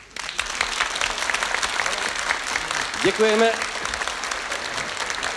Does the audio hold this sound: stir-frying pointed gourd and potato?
no